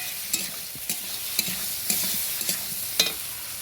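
Boiled potatoes are stirred into an egg curry in a pan with chilli and turmeric. A steady sizzle runs throughout, with sharp spoon scrapes landing roughly every half second.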